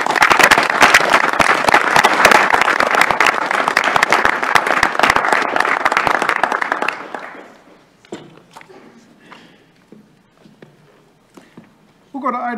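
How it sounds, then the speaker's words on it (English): Applause at a UW System Board of Regents meeting honors Coach Alvarez and his staff, a dense, loud round of clapping from the room lasting about seven seconds before fading into scattered claps, shuffling and murmuring. "let's give Coach Alvarez and his staff a round of applause"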